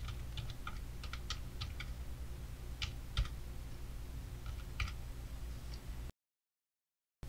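Typing on a computer keyboard: a short run of quick, crisp key clicks in uneven bursts, close and fairly quiet over a steady low background hum, then a brief silence.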